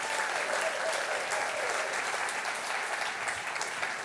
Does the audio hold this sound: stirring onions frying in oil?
no